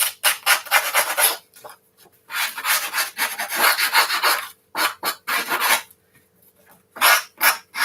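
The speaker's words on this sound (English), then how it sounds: "Now what I'm going to start off with doing is I'm going to distress my edges. So apologies if that's an awful sound for you guys." Edges of a paper craft project are distressed by rubbing and sanding, making repeated harsh scratchy rasping strokes in bursts with short pauses, close up and loud with no talk.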